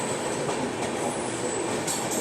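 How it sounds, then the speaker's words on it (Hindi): Rajdhani Express pulling out of Yesvantpur Junction in Bengaluru, a steady, loud rumble of rolling railway wagons with faint wheel clatter and a thin high squeal running throughout. "उससे पहले अपनी राजधानी एक्सप्रेस निकल रही है यशवंतपुर जंक्शन से।"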